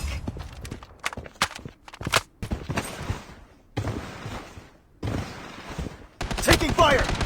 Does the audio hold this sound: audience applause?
no